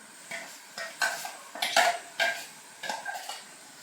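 Beetroot pachadi with ground coconut paste is stirred in a pan, making a series of distinct spoon scrapes and knocks in an uneven rhythm over a faint background, with no speech.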